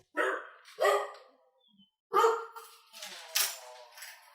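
A household dog barks in short sharp bursts, two quick barks, a pause, then another bark trailing into rougher, noisier yapping, fairly close and loud.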